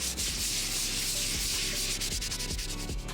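Close, loud, rhythmic rubbing of sandpaper scrapes across a Tony Hawk skateboard deck, roughing the surface ahead of priming in quick repeated strokes.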